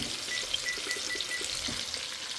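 Chicken pieces frying in a hot pan give a steady, close sizzle with soft crackles and faint spattering throughout, with no voices.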